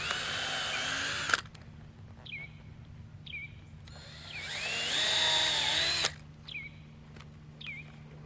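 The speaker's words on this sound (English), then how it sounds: "I'll drill some holes and put some screws in." A cordless power drill bores holes into wooden concrete forms during house construction, two long whining bursts separated by short trigger taps, close and loud, with faint birdsong between.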